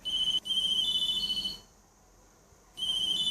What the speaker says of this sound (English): Then his phone began to ring.